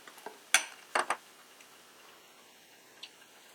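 Keto pancake batter goes into a pan, with a few sharp clinks of utensil on pan followed by a faint, quiet sizzle, close up.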